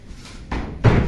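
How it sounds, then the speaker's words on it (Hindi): A room door pushed shut, with a soft first bump followed by a louder, close thud as it closes. "दरवाज़ा बंद करो रूम का।"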